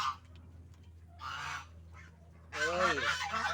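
Geese on a farm honk in short loud bursts, a fainter call first and then a harsher, louder honking run at the end, with no talk over them.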